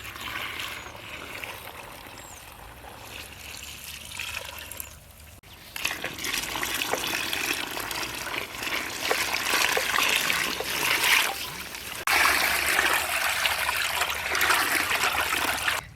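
Water poured and stirred into corn flour for Bombay halwa, a large batch of about two kilos of flour with six litres of water, giving a steady trickling, sloshing swirl that grows louder and busier after a quieter start.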